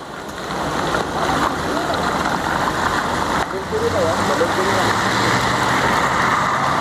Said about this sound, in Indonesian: Wah, di belakang ada mobil box. Ada mobil box, 2 mobil box.